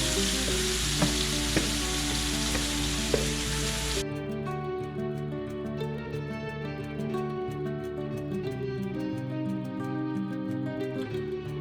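Eggplant pieces fry in regular cooking oil in a pan, a steady dense sizzle throughout, with faint crackles and a quieter, smoother stretch after the first few seconds under a low hum.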